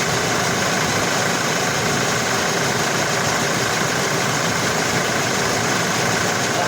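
A 2022 Toyota Innova engine idles steadily with its air-conditioning compressor engaged, producing a constant broadband hum and whir up close with no voices.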